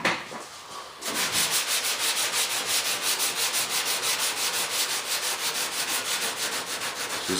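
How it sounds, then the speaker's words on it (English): Fiberglass patch being sanded by hand with 220-grit paper on a firm sanding block, a steady, close, rhythmic back-and-forth rasping of even strokes after a brief quieter start, with no talking. "This is 220 on a nice firm block. I like this. This is my favorite sanding block."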